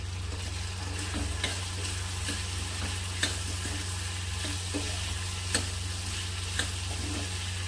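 Thin potato slices with turmeric, chilli and salt fry uncovered in a pan on medium gas, giving a steady close sizzle with a few faint ticks and taps.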